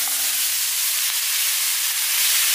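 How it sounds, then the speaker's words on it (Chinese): Pan-fried tofu tipped into a wok with minced pork gives a loud, constant sizzle and hiss of hot oil and steam close by, with no talking. "把煎好的豆腐给倒入锅中"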